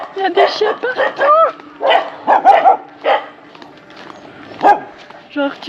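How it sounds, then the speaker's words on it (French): Several dogs in a Thai town bark and yip in a quick, irregular string of sharp, close calls with short gaps between them, loud and clear over a quiet background. "Il y a des chiens partout."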